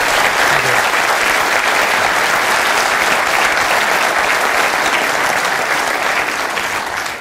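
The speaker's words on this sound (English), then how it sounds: "Ladies and gentlemen, give our guests a round of applause." Studio audience at a television talk show applauding the guests, loud dense clapping sustained evenly for several seconds without speech.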